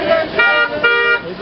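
A few blaring car horn toots in quick succession, loud and overlapping, with voices in the background, at a street protest in Ankara.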